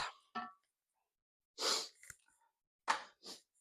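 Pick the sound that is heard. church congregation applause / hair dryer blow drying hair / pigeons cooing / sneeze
sneeze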